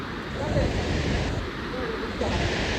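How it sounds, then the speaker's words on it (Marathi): Waterfall near the Marleshwar temple: a steady, loud rush of falling water in a broad unbroken roar, close by and even throughout, with no voices over it. "यो धबधबा बघून घ्या कसला पडतंय."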